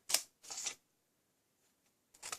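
A paper notcher or punch cuts notches into the ends of cardstock for a folded gift box in three short, crisp crunching bursts separated by silence, heard close.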